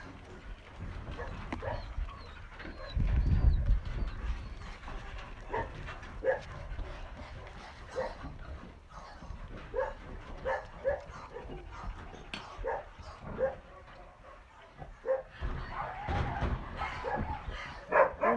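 Several dogs barking and yipping outdoors in short irregular bursts, some close and loud, others fainter, mixed with whimpers and a person talking between the barks.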